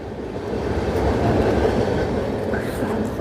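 A passenger train, its last general compartment passing, rolls over a bridge near a fishing spot, giving a close, steady rumble and rattle that swells slightly and ends with a brief louder clack.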